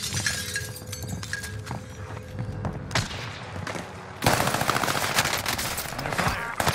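Rapid automatic gunfire in the Call of Duty Warzone video game on Rebirth Island, dense bursts of loud shots over a busy mix that jumps louder partway through.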